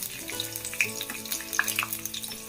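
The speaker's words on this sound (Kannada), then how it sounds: "ಲೈಟಾಗಿ ಇದು ಫ್ರೈ ಆಗಬೇಕು ಕೊಕೊನಟ್ ಆಯಿಲಲ್ಲಿ" Ingredients fry lightly in coconut oil in a pan, giving a steady close sizzle with scattered pops and crackles throughout and no talking.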